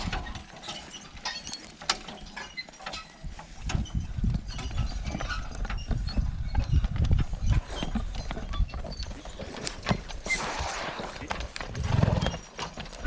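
Irregular clip-clop of a heavy draft horse's hooves pulling a plow through a garden, with creaking, clanking harness and equipment, steady work noises close by throughout.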